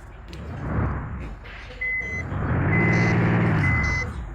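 A heavy vehicle reversing in a modded driving game. Evenly spaced high electronic beeps ring over a rumbling diesel engine that swells louder toward the end, with a voice talking briefly.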